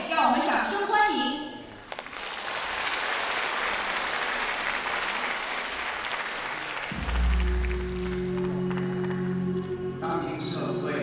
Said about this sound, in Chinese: 下面让我们掌声欢迎。